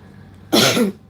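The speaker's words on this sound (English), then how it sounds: "Apologies about my clearing my throat" A single short, raspy throat clearing, close and fairly loud, lasting under half a second against a quiet background.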